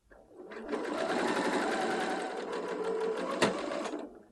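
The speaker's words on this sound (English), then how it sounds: "I can now follow my lovely clear chalk line to sew that dart in place" A sewing machine runs steadily for about four seconds, stitching a straight dart along a vanishing tailor's chalk line, with a close, continuous mechanical whir and one sharp click near the end.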